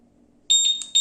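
Sharp, high-pitched electronic beeps from a Honda Scoopy motorcycle's keyless alarm start abruptly after a quiet hum, repeating in quick bursts, loud and close.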